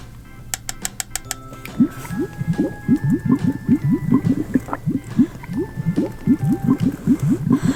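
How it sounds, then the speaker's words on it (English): Repeated bubbly, squishy pops from a toy bubble wand being blown. They come in a quick, uneven series at close range, after a few thin chimes at the start. "let's blow some more bubbles"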